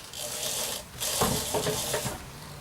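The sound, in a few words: wood lathe spinning at about 1200 RPM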